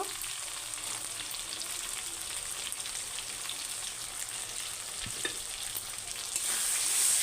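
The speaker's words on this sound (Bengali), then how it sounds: "তো এটাকে আমি দশ মিনিট ভালো করে নাড়িয়ে চাড়িয়ে ভেজে নেব" Bata fish fries with chili and turmeric powder in a pan, giving a steady, close sizzle with occasional stirring scrapes; the frying swells louder near the end, and no one speaks.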